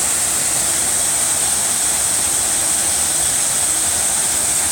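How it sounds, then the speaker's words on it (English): Constant heavy rush of a waterfall feeding a stream on a lot, loud and close, an unbroken wash of falling water throughout. "Unless you enjoy, the more powerful sound of the water."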